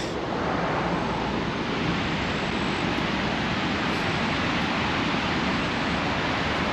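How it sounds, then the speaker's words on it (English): Steady broadband rush of a waterfall along the Quinebaug River trail in Connecticut, a constant roar heard from some distance with no talking. "On a good note, I do hear a waterfall."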